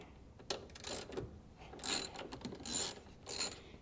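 A 10 mm ratchet working loose the rear bumper bolts on a Nissan 350Z, giving several short bursts of close, bright metallic clicking separated by brief pauses, with no talk.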